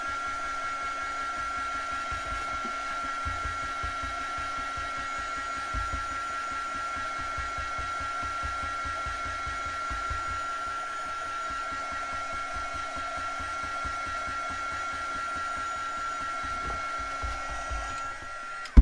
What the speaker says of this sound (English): I can dry that quickly again here with my heat tool